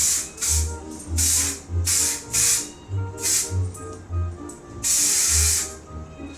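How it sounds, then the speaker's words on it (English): Spray wax hisses from a can onto the ends of short pixie-cut hair in about nine quick bursts, close and fairly loud, with brief pauses between them. "So you're gonna spray the spray wax on the ends."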